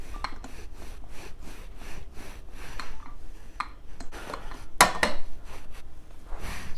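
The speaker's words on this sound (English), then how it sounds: "Form it into a ball and go in with a rolling pin and roll." A wooden rolling pin rolls out chin chin dough on a board, giving a run of quick rubbing and knocking strokes with a few sharper clacks near the end, close and fairly loud, with no one talking.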